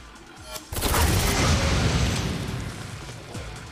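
Rapid gunfire from the character Lady in the action game Devil May Cry: Peak of Combat bursts out after a short quiet lead-in, a loud, dense volley of shots and booms that slowly tapers.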